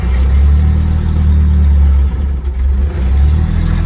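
A 1964 Oldsmobile Cutlass engine revving close up, a loud, deep, steady roar that briefly dips and wavers midway before surging back to full throttle, with no talking.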